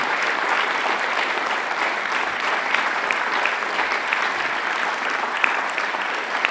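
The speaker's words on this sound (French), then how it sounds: "j'ai quand même très envie de vous inviter à remercier nos invités et vous remercier vous, public, par vos applaudissements" Sustained applause from a seated audience thanking guests after a discussion, dense and even, many hands clapping continuously without pause.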